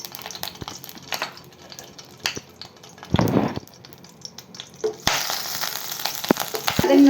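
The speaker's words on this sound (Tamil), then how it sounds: "இப்போ பன்னீரை வறுக்க போகிறோம்." Paneer cubes frying in oil with a little butter in a pan give a steady close sizzle, with brief scrapes and stirring clatter, and a louder burst of frying partway through. No one talks.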